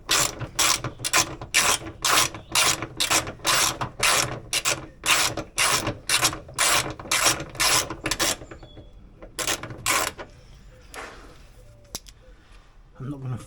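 A hand ratchet clicks in quick repeated strokes while undoing a bolt on a Ford Mondeo MK3 ST220 chassis, close and crisp for about ten seconds, then stops to quieter handling noises.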